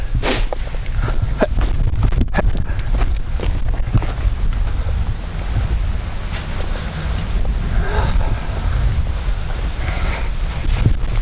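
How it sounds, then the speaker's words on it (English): Steady roar of waves and water, heavily buffeted by wind noise on the microphone, with occasional knocks and rustles. "Just follow the sound of the water."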